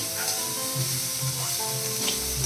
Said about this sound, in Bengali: পেঁয়াজ আদা রসুন ভালো করে ভাজার পর এবার বড় বড় টুকরো করে রাখা ক্যাপসিকাম দিয়ে দেবো